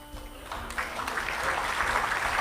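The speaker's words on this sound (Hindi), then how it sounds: "नहीं अभी आप ताली बजा रहे हैं, ताली मत बजाइए" A crowd of listeners at a Rahul Gandhi speech breaks into applause, a steady wash of clapping swelling over a couple of seconds at moderate distance.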